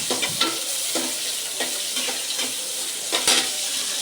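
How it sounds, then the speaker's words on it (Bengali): Onions fry in hot oil in a cooking pot for a chicken curry, a steady close sizzle with a few stirring scrapes and clinks, and no talk. "এখন পেঁয়াজটা ভাজা হোক।"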